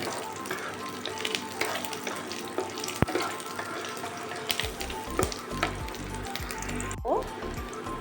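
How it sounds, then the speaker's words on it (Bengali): Chopped garlic fries in hot oil for a potato curd curry, giving a continuous dense sizzle with occasional stirring clinks and one sharp tap, louder crackling toward the end. "এই রসুন কুচিটাকে একটু ভেজে নিতে হবে সামান্য"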